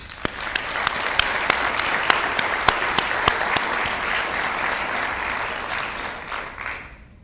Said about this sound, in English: can we please give a huge round of applause to Congressman Tim Burchett and our U.S. Senators